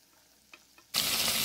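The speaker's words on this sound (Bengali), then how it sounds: "সব একসাথে ফ্রাই করে নিচ্ছি" Potatoes, pointed gourd, onion, garlic and prawns frying together in a pan: a near-silent start with a couple of faint clicks, then a sudden loud, steady sizzle that fills the rest.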